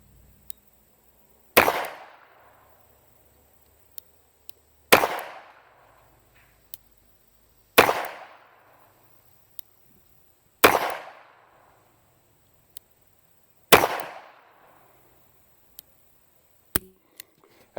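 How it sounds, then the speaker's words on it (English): Five sharp, loud reports from an S&W 438 Airweight Bodyguard revolver firing .38 rounds in double action, evenly spaced about three seconds apart, each ringing out briefly before quiet returns. "I'm going to fire 5 on double action and 5 on single action"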